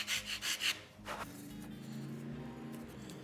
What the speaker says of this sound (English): This I can do with that coarse disc sander.